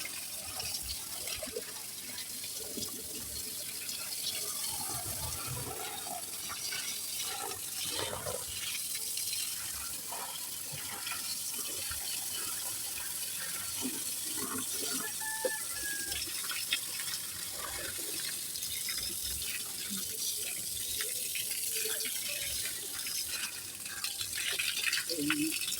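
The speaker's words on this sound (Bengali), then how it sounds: "এই যে দেখুন, এখন পানি দিয়ে এগুলো পরিষ্কার করে ফেলতেছি।" Water is poured and splashed to wash down a yard area, a faint, continuous run of splashing and trickling with a voice speaking now and then over it.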